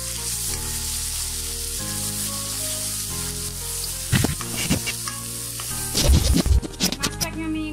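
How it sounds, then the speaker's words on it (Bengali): Fish frying in a pan with chili powder and turmeric, a steady loud sizzle with stirring and scraping bursts toward the end. "মাছটা ভাজা হয়ে গেছে আমার"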